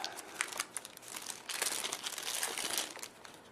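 Crinkling and tearing of the small Samsung Intensity 2 phone box packaging as it is opened, a close run of sharp paper and plastic crackles that grows busier and louder midway, with no talking.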